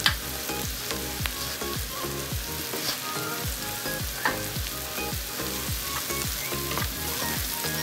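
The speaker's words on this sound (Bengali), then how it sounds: "আমার এগুলো একটু হালকা ফ্রাই করছি" Shredded cabbage fries in a pan with other vegetables for Chinese fried rice, giving a constant close sizzle with stirring scrapes, while rhythmic background music plays underneath.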